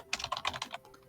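A quick burst of typing on a computer keyboard, about a dozen light, rapid key clicks in close succession, faint and near, with no talking.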